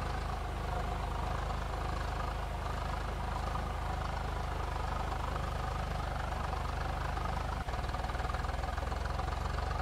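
A tractor engine in Farming Simulator 22 runs with a steady, rumbling low drone, close and continuous, with one brief knock partway through.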